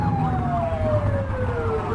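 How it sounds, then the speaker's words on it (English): A video game police siren sweeps in a long falling tone over a steady engine rumble, continuous and fairly loud throughout. "Get on their tail and blip the siren."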